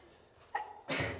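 A single sharp sneeze bursts out loudly at close range after a quieter breathy intake, inside an old WWII German U-boat torpedo storage bunker.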